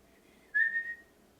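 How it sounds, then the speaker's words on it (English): A person whistles a short, bright rising-and-falling phrase of about half a second, close and clear over near silence. "I can suck whistle, I can't blow whistle"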